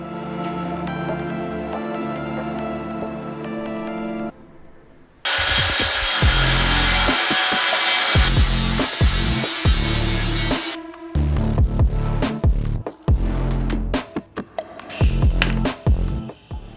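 Power tool cutting through a diesel Mercedes exhaust stack pipe, a loud sustained grinding run that stops briefly, restarts, then breaks into choppy bursts and pauses near the end; no talking.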